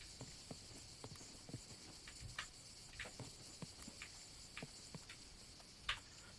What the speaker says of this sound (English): It is a horse I can hear.